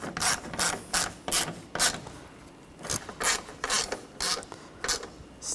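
A ratchet wrench tightens bolts on a 2013-2019 Ford Escape 2.0L water pump in bursts of quick rasping clicks, about a dozen close strokes with brief pauses between.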